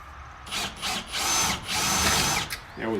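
A power drill with a small bit bores in several short bursts, whining loudly and up close with brief pauses between runs, during the building of a cheap carpenter bee trap.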